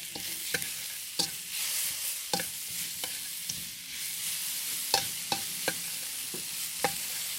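Black pepper mushrooms stir-fried in a pan with green onion, sugar and salt: a steady sizzle under a regular run of sharp spatula taps and scrapes, about two a second, close and unaccompanied by talk.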